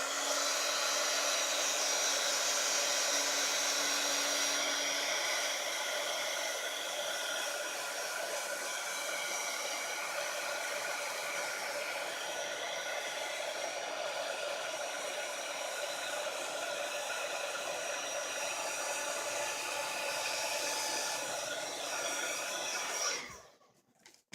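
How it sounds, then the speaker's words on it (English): A heat gun blows loud and steady at close range while melting embossing powder on a craft card, its constant whooshing hum lasting over twenty seconds before it cuts off at the end. "I always cover my embossing powder when I have my heat gun going"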